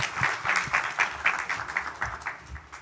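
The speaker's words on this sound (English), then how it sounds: "Let's welcome on the stage with the applause, Jasmine, and the stage is yours." An audience applauding to welcome a speaker onto a stage, with steady, rhythmic clapping of moderate loudness that runs through the whole clip.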